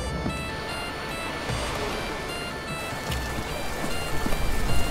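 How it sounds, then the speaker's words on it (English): Rain pours steadily in a video game during a tropical storm, a dense continuous hiss of drops that swells louder toward the end, with no talking. "Oh, it's raining."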